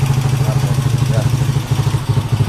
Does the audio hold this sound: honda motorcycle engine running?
yes